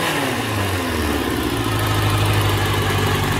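A cafe racer motorcycle engine, a Barracuda, runs loud and close with a deep, steady throttle drone and a rising tone, with no talking.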